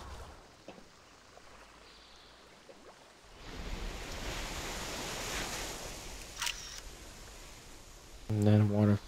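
A waterfall in World of Warcraft rushes as a steady broadband wash that swells in after a quiet start, followed by a brief burst of voice near the end.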